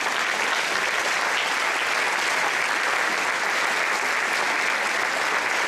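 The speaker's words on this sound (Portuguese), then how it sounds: "Pode aplaudir sim ao Senhor." A church congregation at a ministers' gathering applauds, a dense, steady wash of clapping from many hands that holds evenly throughout with no talk over it.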